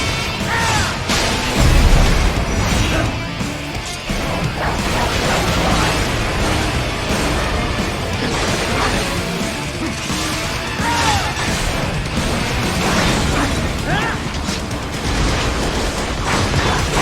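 Missiles explode in the video game Metal Gear Rising: Revengeance, a dense, loud, continuous wall of blasts, crashes and mechanical clatter that hardly lets up across the whole stretch.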